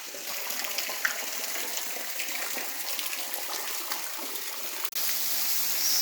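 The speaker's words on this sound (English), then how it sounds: "Spot number 6, my friends, a waterfall." A waterfall in Meghalaya, India, roars steadily as a dense, continuous rush of falling water that fills the whole scene, with a brief dip in the sound near the end.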